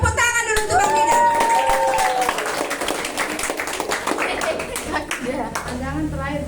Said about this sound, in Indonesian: Kasih tepuk tangan dulu untuk Bang Didan.